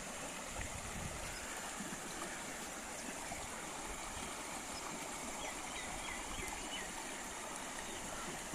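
Steady rushing rainwater flowing continuously, a dense broadband wash with no pauses, fairly close and even in loudness throughout.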